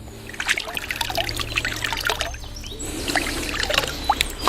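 Stream water trickles and pours over a small bell-metal Louis XVI coin as it is rinsed outdoors, a steady close splashing flow with no voices.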